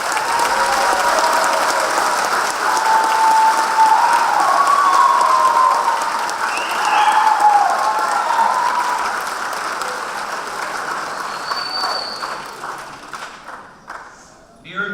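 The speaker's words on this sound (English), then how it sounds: "Let's give them a round of applause." Sustained applause from an audience at a 2018 Oahu youth cadet graduation, a steady, full clapping texture that holds for over ten seconds and then fades and thins out near the end.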